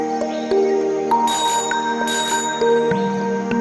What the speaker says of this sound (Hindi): साइकिल की घंटी की आवाज तो आ रही है